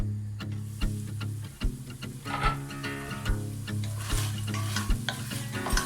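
Meat sizzles as it is sautéed in a pot, with steady frying hiss and repeated knocks of a spoon stirring it against the pot, close and fairly loud.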